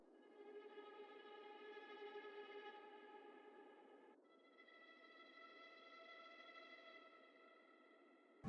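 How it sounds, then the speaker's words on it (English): Tremolo strings from a Kontakt sample library play two sustained chords in sequence, the first swelling and fading around the middle, the second softer and held before a sharp click at the end; no voices. "then I went on and added these tremolo strings from this contact library."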